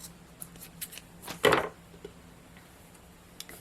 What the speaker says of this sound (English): I just take the ends of it, squeeze them together, and I'm going to cut a little bit off.